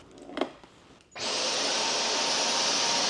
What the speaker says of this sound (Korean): 청소기가 나를 끌고 가네?